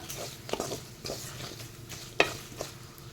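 Rambutan pickle with fenugreek and asafoetida powder is stirred in a pan, giving a soft sizzle with a few metallic scrapes and taps of a spoon, close and quiet.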